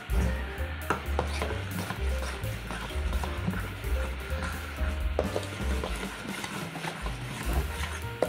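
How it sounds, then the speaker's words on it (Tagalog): Pancake batter being stirred after vanilla is added, with soft repeated scraping and tapping of the utensil in the bowl over continuous background music. "Tapos maglagay tayo ng vanilla. Haluin natin muli."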